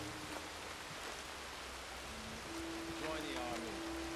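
Steady rain falling in the video game Red Dead Redemption II, a constant soft hiss heard at low level beneath faint tonal game sounds and occasional voices.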